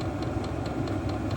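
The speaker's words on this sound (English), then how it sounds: "You can hear the intake, hear the fan, hear the fuel pump" A running HCalory diesel heater, newly installed in an off-grid shipping-container cabin, gives a steady close hum of its fan and intake, with a faint rhythmic ticking of the fuel pump repeating about every fifth of a second.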